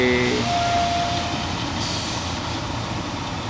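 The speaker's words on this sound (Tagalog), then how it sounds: "medyo maingay na yung loader nila, kulang na sa greasing" A noisy wheel loader that is short on grease works at a concrete batching plant, loading aggregates into a bucket. It makes a loud, continuous engine and machinery roar with brief high squeals and whines at the start.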